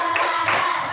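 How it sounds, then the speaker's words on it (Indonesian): A classroom of students claps in rhythm, a couple of loud, close, sharp claps in quick succession over a roomy background. "Tepuk 1, tepuk 2, tepuk 3, tepuk 4, tepuk 5,"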